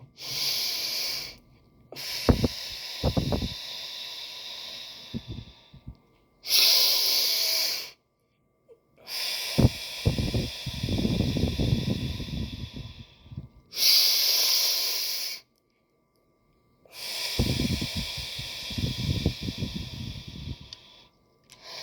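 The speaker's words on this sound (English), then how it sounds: "Breathing is something that's not taught to us, but we need to do that every day, especially when you're stressed" A person breathing deeply through a breathing exercise, with long hissing inhales and exhales repeated in slow cycles separated by short silent pauses, close and fairly loud, with no talk.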